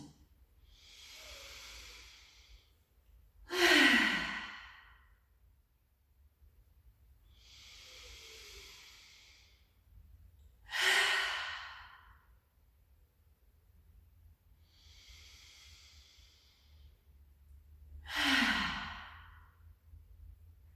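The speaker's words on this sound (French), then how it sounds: "Et prenez 3 profondes respirations." Three deep, slow breaths during a sophrology relaxation session, each a soft drawn-in inhale followed by a louder, longer sighing exhale, evenly spaced in a quiet room with no talking.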